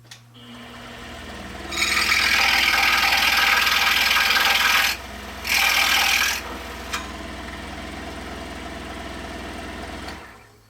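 A handsaw cutting freehand through wood held in a jig, making a square 90-degree cut for a homemade slide whistle: steady rasping strokes, broken by one short pause near the end, then a faint knock.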